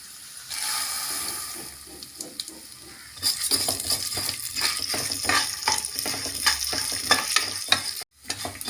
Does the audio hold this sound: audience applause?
no